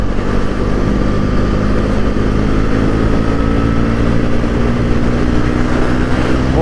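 A 2025 Bajaj Pulsar NS400Z motorcycle engine drones loud and steady while riding on the road, with a constant even tone throughout.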